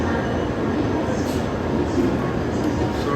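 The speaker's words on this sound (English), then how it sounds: "So this is another bullet train." A Japanese bullet train rushing past close by, giving a steady, loud, unbroken roar of wind and rail noise with no pauses.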